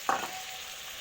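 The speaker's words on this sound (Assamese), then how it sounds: "5 মিনিটমান এনেকৈ ভাজি ল'লোঁ" Chicken pieces frying in a pan with salt, turmeric, chilli powder, ginger and bay leaves give a short stirring scrape followed by a quiet, steady sizzle.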